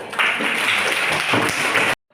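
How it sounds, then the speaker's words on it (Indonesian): A primary school class in Batam clapping their hands together, a dense burst of applause from many children that fills the room for about two seconds before cutting off abruptly. "Oke, tepuk tangan dulu."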